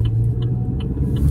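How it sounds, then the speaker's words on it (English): A truck rolling past outside on a residential street, a steady loud low rumble that swells toward the end, heard alone without talk. "I like that truck."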